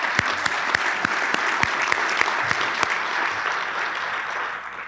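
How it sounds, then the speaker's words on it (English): A crowd at a state business development event applauds loudly and steadily, dense clapping with a few sharper individual claps standing out throughout. "Now I want to give you a round of applause."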